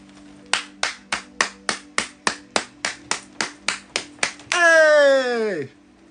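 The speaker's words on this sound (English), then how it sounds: "Let me get that hand clap." Thirteen evenly spaced hand claps in a quick, steady rhythm, close and crisp, followed by a drawn-out vocal exclamation.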